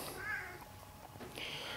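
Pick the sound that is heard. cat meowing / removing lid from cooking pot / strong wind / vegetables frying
cat meowing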